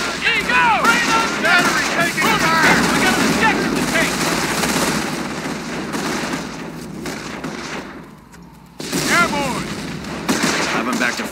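Battle gunfire in Company of Heroes at Vierville, dense machine-gun bursts and rifle shots with booming explosions, loud and nearly continuous, with shouted voices mixed in and a brief lull before the firing resumes.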